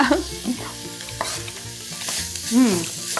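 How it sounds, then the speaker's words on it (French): Sauerkraut tipped into a hot frying pan sizzles and crackles with stirring scrapes, steady and close, with background music playing. "Tiens, Caroline, je te laisse verser la choucroute dans la poêle"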